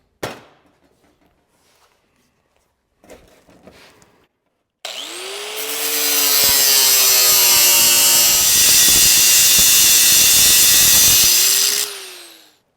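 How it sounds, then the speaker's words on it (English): A power saw cuts a 2-inch strip from 18 gauge sheet steel for an MGA floor rail. After a few faint handling knocks, a loud, steady shrieking cut starts near the mic and holds for about seven seconds, then winds down. "I'll cut me off a 2-inch strip here"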